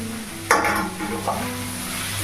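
Continuous sizzling of spices frying in a pan with kasundi mustard sauce mixed in water, with two sharp stirring scrapes and clinks against the metal.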